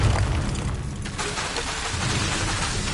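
Bombarda spell blast in Hogwarts Legacy: a loud, heavy explosive boom with a rumbling low-end tail that stays dense and sustained through the moment, with no voices over it.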